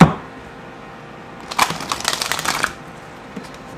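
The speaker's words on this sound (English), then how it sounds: "I'm able to actually rifle shuffle because these are oversized." Oversized Gaian Tarot cards rifle shuffled by hand: a quiet pause, then a close, fast riffling flutter of card edges lasting about a second before stopping.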